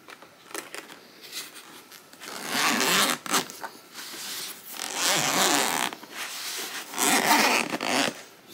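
A zipper is drawn open in several long, close, raspy pulls on the fabric carrying case of a Revopoint POP 3 Plus 3D scanner, with short handling rustles between the pulls.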